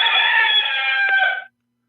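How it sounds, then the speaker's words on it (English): A rooster crow sound effect played in a live talk show: one loud, sustained cock-a-doodle-doo that cuts off abruptly, heard alone with no talk over it. "not the bad chicken crow"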